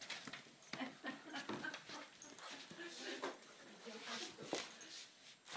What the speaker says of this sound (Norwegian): skal du ikke bjeffe noe mer, da?